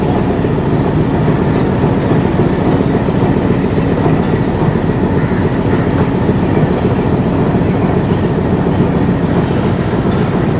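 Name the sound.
Pakistan Railways Lasani Express train running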